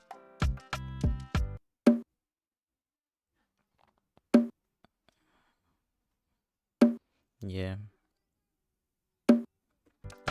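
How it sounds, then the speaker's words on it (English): A simple bongo pattern in a beat: four sharp, isolated hand-drum hits spaced about two and a half seconds apart, with someone speaking just before the first hit and a brief spoken word between the later ones. "from there I have another bongo, also simple. This is how it sound like."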